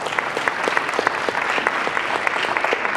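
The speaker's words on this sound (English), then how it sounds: "Please, a warm round of applause to our panelists." A conference audience claps steadily for a panel, a dense even patter of many hands at moderate loudness, sustained for the whole moment.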